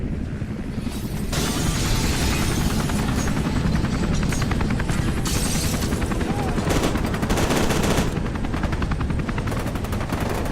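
Sustained SMG fire in the shooter F.E.A.R. 2, a dense, continuous rattle of rapid shots lasting several seconds with brief pauses, loud and close amid heavy combat noise.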